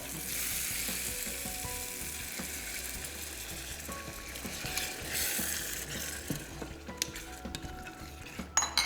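A Goan fish curry made with coconut milk bubbles in a pan, a steady soft sizzle and hiss with light clicking and scraping from a spoon, close and moderately quiet, without voices.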